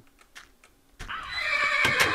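A horse neighs in Minecraft with the Fossil & Archeology mod: soft clip-clop ticks, then a loud, drawn-out whinny that starts abruptly and holds for over a second.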